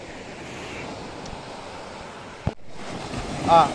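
Sea waves wash against a shore with a steady rushing surf and wind buffeting the microphone, one bump partway through, then the wash swells louder near the end.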